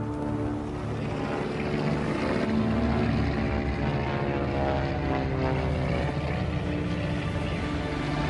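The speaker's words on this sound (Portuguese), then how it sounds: "O avião nos sobrevoou." Propeller airplane flying overhead in the desert, a loud steady engine drone that fills the whole stretch with a constant rumble and no voices.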